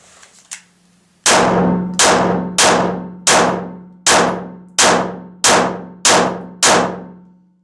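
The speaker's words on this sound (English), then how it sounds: "let's see how it does when you pull it from your holster and then fire pretty fast" A Heckler & Koch P7 pistol is drawn from a holster with a brief rustle and click, then fired rapidly, nine loud close shots in a fairly even rhythm, each ringing out before the next.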